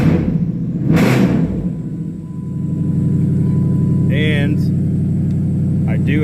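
A 2007 Dodge Charger SRT8 with its check engine light on cranks and catches with a short burst, then settles into a deep, steady, rough-sounding idle rumble, close by, with a brief voice speaking partway through.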